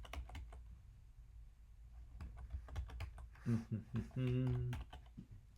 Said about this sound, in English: So now when I click my keyboard